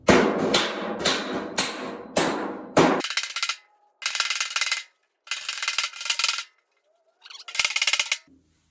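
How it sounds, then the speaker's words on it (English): Metallic hammer blows ring off a 240Z car roof panel, struck with a hammer and loosely held dolly, in quick bursts, a dense run of clangs followed by several separate rattling clusters with short pauses between. "I just got the old hammer and dolly, and don't hold the dolly on there tight"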